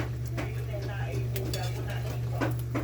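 Chicharon is stirred into a pan of sautéed eggplant, a utensil scraping and clinking against the pan in short strokes over a steady low hum while someone talks.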